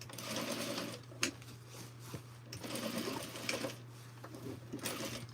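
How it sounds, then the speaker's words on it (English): Sewing machine stitching trouser inseams at a half-inch seam allowance, a continuous close whirring hum broken by short pauses and clicks, with no talking. "So let's start sewing 1/2 inch"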